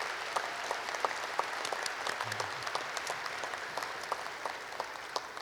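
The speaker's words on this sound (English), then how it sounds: "Can we give him a round of applause" An audience at the DGA awards ceremony applauds an honoree, a sustained even roar of many hands clapping at moderate distance, steady throughout without voices rising above it.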